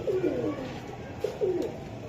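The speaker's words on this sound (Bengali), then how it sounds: "এটা বুদাপেস্ট কবুতর।" A Budapest pigeon cooing close by, two soft throaty rolling coos in quick succession, clear over faint background noise.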